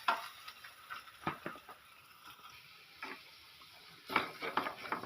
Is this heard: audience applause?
no